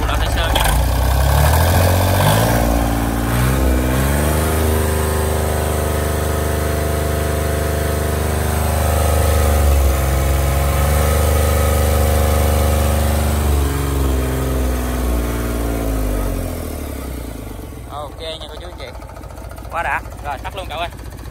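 A Yanmar 3T84 turbo diesel boat engine, 41 hp at 3050 rpm, running with a steady low droning hum whose pitch shifts with revs before winding down near the end, someone talking over it.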